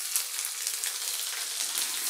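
Red chili powder and ginger paste frying in a little oil, a brief steady crackling sizzle, close and even, with no talking.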